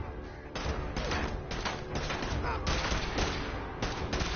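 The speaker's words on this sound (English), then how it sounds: "Dance is actually shooting." Sustained automatic gunfire from the companion Danse in Fallout 4, a dense rattling fusillade of rapid shots running nearly continuously at close range, with brief pauses between bursts.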